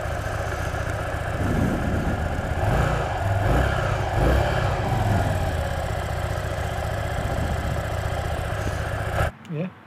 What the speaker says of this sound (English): We'll try and get some audio of the engine note, just idling and revving it, because it does sound nice